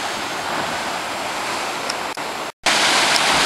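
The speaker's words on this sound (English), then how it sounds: "Now here we are at the black sand beach." Surf rolls onto a black sand beach on Maui along the Road to Hana, a loud continuous wash of breaking waves with wind buffeting the microphone and a brief dropout near the end.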